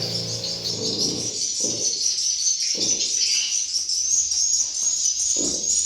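Swiftlets chirp steadily inside an enclosed swiftlet house, a dense high twittering chorus that persists throughout, with a few low thumping bursts underneath.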